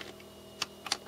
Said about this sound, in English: Now the torque wrench is set to 5 newtons. There's a click.